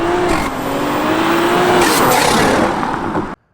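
2022 Toyota Supra A91 CF-Edition with an Fi valved exhaust, valve open, revs hard on a canyon road, a loud close roar with a rising engine note held for about three seconds before cutting off abruptly.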